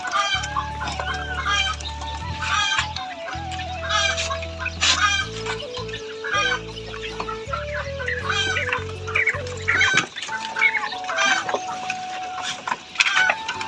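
A flock of European white giant coturnix quails calls continuously, with many overlapping chirps and clucks layered over a steady low background hum, with no talking.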